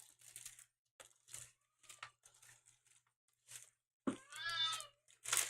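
A cat gives a clear, close meow amid light tapping and rustling noises in a quiet indoor room.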